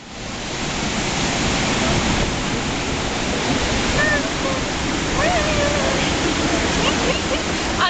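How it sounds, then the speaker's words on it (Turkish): Manavgat waterfall rushes in a loud, steady roar of crashing water, with faint voices of visitors nearby. "Arkadaşlar Manavgat Şelalesi'ndeyiz."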